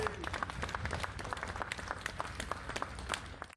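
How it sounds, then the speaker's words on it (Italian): Relieved applause from onlookers as firefighters pull a newsstand out of the water, a dense run of many hands clapping at a moderate distance, with a voice speaking over the start. "non manca un applauso liberatorio"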